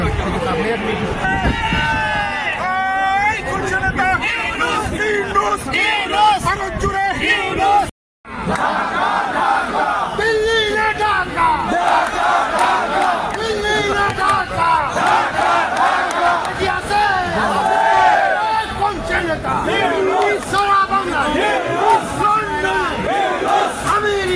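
A large crowd at a political rally chants slogans in unison, loud and dense with overlapping voices and shouts, rhythmic call-and-response pulses, one brief dropout partway through, then the chanting resumes just as strongly.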